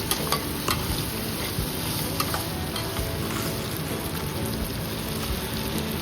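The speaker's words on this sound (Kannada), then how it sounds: "ಚಕ್ಕೆ, ಲವಂಗ ಮತ್ತು ಸೋಂಪು ಇದನ್ನು ಅದರಲ್ಲೇ ಫ್ರೈ ಮಾಡ್ಕೊಳ್ಳೋಣ" Cinnamon, cloves and fennel seeds fry in a pan for chana masala, giving a steady close sizzle with light stirring scrapes throughout and no voices.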